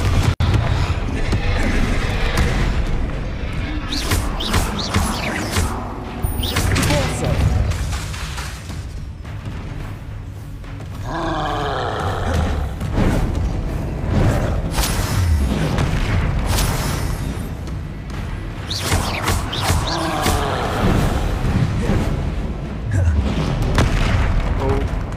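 Confringo explosive spell blasts in Hogwarts Legacy go off repeatedly as booming bursts scattered through dense battle noise, mixed with other spell effects and a talking voice.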